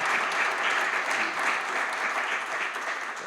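A small audience claps steadily and fairly loudly for a flamenco guitarist at a guitar gathering. The clapping continues without a break from start to finish, with no talk over it.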